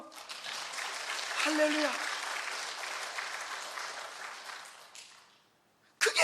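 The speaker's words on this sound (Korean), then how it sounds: "그럼 박수 한번 쳐봐요." A church congregation applauds during a Sunday worship service, a steady wash of clapping lasting about five seconds with a voice calling out over it, then fading to near quiet before a sudden loud burst at the end.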